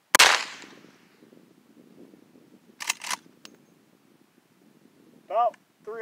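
A Marlin 1894 carbine in .357 Magnum fires one sharp, loud shot at the start, and its report decays into a quiet tail. Fainter clicks and knocks follow a few seconds later, and a brief voice is heard near the end.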